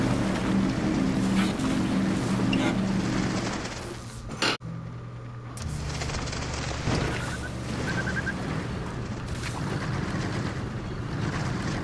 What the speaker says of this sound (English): engines running here